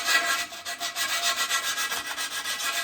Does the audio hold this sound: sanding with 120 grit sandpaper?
yes